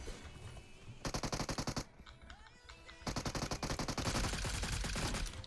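Automatic gunfire in the mobile battle-royale game PUBG Mobile: two loud rapid-fire bursts, each lasting under a second, separated by a quieter gap with faint game sounds, then continued dense shooting and impacts to the end.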